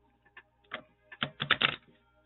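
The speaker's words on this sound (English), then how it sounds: "I don't know why I feel like shuffling these as well." Tarot cards being shuffled in a few quick riffled bursts, crisp and close, with a busier flurry of snapping near the end and no talking.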